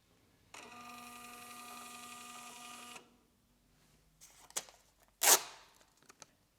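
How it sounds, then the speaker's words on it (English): A small built-in printer on an AutoSample cleaner prints measurement results with a steady mechanical whir lasting a couple of seconds, followed by clicks and a sharp tearing snap of paper, quiet and close. "after the cleaning process you can print the measurement results"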